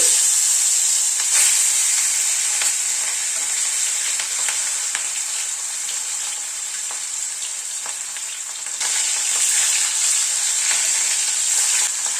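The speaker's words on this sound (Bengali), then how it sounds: "আমি 2 পিস করে মাছ ভাজছি" Two pieces of rohu fish fry in hot mustard oil in a small wok, a bright, constant hiss and sizzle that holds steady and loud throughout with faint crackles.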